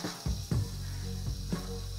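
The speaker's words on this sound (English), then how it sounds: "we're frying the meat first" Beef frying in a pan while bell pepper beef is cooked, giving a steady sizzle with a few louder stirring knocks. No one speaks.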